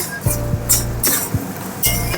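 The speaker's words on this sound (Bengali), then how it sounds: "এই যে এই কর্নফ্লাওয়ারের জলটা এবার আমি এর মধ্যে দিয়ে দেবো।" A bowl of cornflour water is poured into a cooking pan in a kitchen, with several sharp close clinks of dish against pan in uneven bursts over a low steady hum.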